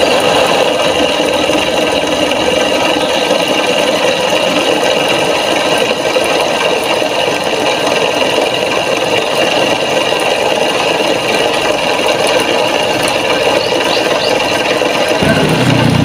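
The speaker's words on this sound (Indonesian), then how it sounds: "Mesin tinggal nyalakan." A miniature grain-lifting machine's small engine runs at a steady, loud, continuous whir and rattle with no letup, stopping abruptly near the very end.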